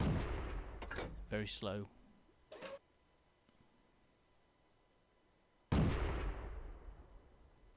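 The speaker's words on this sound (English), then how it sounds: "Someone's firing at him behind a rock." Tank cannon fire in World of Tanks: a single loud, booming shot with a long rumbling decay, coming after a stretch of quiet game ambience, with brief speech near the start.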